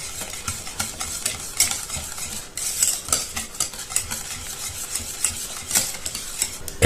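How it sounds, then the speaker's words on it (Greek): A spoon stirs hot béchamel sauce in a pan while a lump of butter melts into it, giving steady close scraping and clinking strokes over a faint sizzle. "όπως είναι καυτή ανακατεύουμε μέχρι να λιώσει το βούτυρο"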